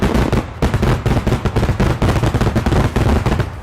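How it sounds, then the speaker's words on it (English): Daytime fireworks that burst into multicolored smoke, heard as a loud, rapid string of sharp crackling bangs and pops, dense and continuous throughout with no voices. "what if we made daytime fireworks?"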